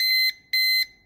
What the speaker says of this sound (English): So three loud beeps. That means this has been reset to its original factory default settings.